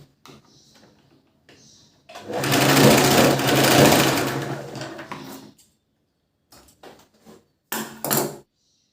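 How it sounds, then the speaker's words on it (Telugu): A sewing machine stitches the bell sleeves of a princess cut blouse in a steady, loud whirring run lasting about three seconds, bracketed by short quieter bursts of stitching and handling of the fabric. "మళ్ళీ సేమ్ ఆ కుట్టు దగ్గర నుంచి సెకండ్ కుట్టు అయితే వేసేసుకోండి"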